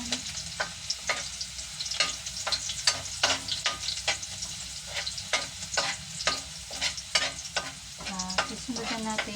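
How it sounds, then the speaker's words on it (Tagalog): Garlic sautéing in a little cooking oil in a pan, a steady close sizzle broken by frequent scraping stirs of the spatula, with no talking. "Konting mantika lang para sa paggisa. At maglagay na tayo ng bawang."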